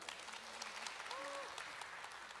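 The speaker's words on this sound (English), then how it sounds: "Let us have a round of applause." Faint, distant applause from an audience at an awards show, steady clapping with a brief tonal sound rising over it midway and murmuring voices nearby.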